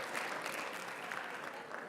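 A conference audience in Las Vegas breaks into sustained applause, a dense wash of many hands clapping at once, fairly distant and even in level across the whole stretch.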